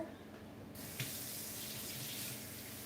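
Cold tap water runs steadily into a bowl of silver fungus being soaked in a kitchen, a close, constant hiss of flowing water with no talk.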